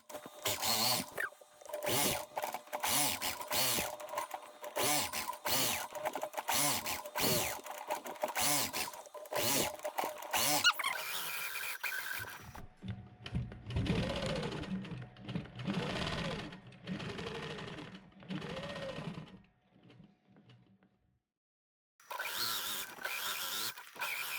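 A longarm quilting machine stitching a small wall-hanging quilt, rapid rhythmic needle pulses that run steadily, slow and pause briefly, then resume, close and clear with no talking.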